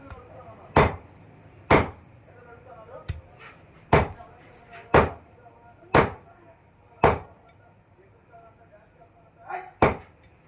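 Pigeon meat being chopped into small pieces for a pigeon fry, with sharp single knife strikes on a board at irregular intervals of about a second, close and distinct over a quiet background.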